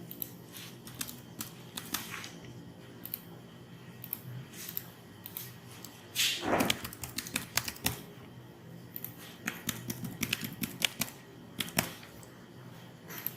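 A computer keyboard is typed on while names go into an application, a run of quick irregular clicks and taps with a short louder clatter partway through.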